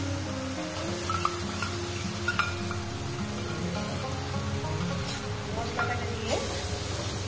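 Spice paste hitting hot fried onions in a pan while cooking a spicy fish curry, giving a steady close crackling sizzle that runs throughout, with faint background noise.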